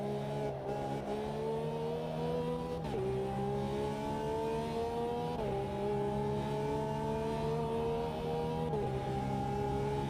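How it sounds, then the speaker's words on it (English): A Lamborghini race car engine in the Automobilista 2 racing game drones steadily at high revs, with several brief dips and climbs as gears shift, loud and continuous with no talk over it. "We're doing race number 2 in the second Lamborghini out of the 4 brand new ones."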